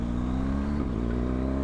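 A steady, loud BMW R1250GS motorcycle engine drone through a Jekyll and Hyde exhaust, with a slight rise and dip in pitch, close and continuous throughout.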